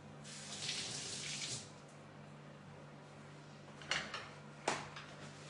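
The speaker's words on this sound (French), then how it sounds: "Donc je le passe à l'eau." Tap water runs over an organic citrus fruit as it is rinsed, a steady soft stream with a few brief splashes and knocks near the end, no voices.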